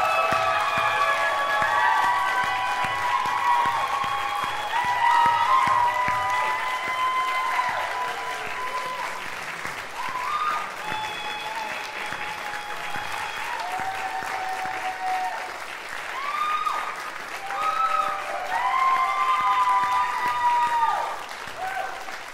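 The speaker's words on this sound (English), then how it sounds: "one round of applause" Sustained audience applause at a music program graduation ceremony, loud and steady for over twenty seconds, with a few cheers and voices mixed into the clapping.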